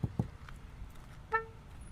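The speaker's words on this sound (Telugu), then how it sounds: "హారన్ చూపిస్తా, అరే హారన్ కొట్రా," A Hyundai i20 car sounds its horn once, a short clear honk near the end after a couple of dull knocks, close by in a quiet setting without talk.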